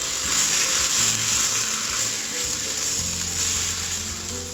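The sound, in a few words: stir-frying romaine lettuce with fermented soybean curd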